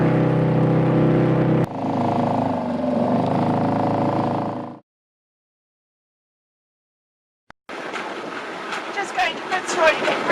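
A motorboat tows another boat whose outboard has failed, off Great Barrier Island in New Zealand, with a steady loud engine drone over rushing wind and water. The sound cuts out, then returns as choppier splashing and wind noise.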